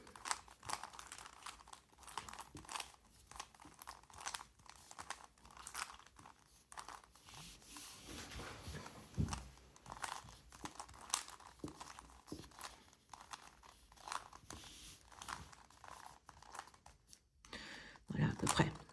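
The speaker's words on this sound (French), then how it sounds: "Maintenant, je vais mélanger le cube." A 3x3 Rubik's cube being scrambled by hand, with steady, rapid plastic clicking and rattling of turning layers, continuous and close, with a brief louder burst near the end.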